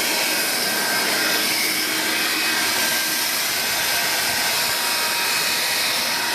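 A Vax Air Cordless Lift Duo upright vacuum runs steadily up close on household stairs, a loud, continuous whooshing motor roar with broadband hiss that holds evenly throughout, with no talking.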